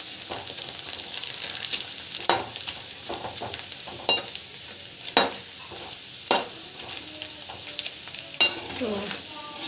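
Papad frying in hot oil gives a steady, soft sizzle broken by sharp crackling pops and a few stirring scrapes spaced every second or so, close and fairly quiet.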